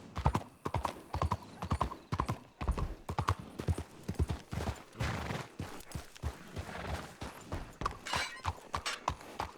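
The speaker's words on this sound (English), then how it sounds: "You mind hitching up that gray horse?" Horse hooves clip-clopping in a Red Dead western video game, a steady rhythmic trot of hoofbeats continuing throughout at moderate loudness, with occasional sharp cracks mixed in.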